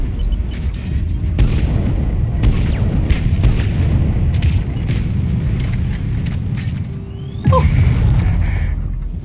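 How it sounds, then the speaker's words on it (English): Frag grenade explosions in the video game Mass Effect 3 give a loud, continuous low rumble of blasts with sharp transient cracks, and a heavier burst near the end. "And let's throw another grenade."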